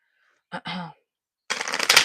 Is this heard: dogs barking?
no